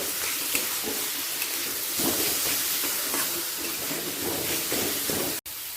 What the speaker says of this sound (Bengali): এবার পুরো মশলা ভালো করে কষিয়ে নেব